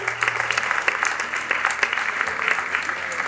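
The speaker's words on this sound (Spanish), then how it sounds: "Le damos un fuerte aplauso." A school graduation ceremony audience gives sustained, dense applause, many hands clapping evenly and loudly throughout.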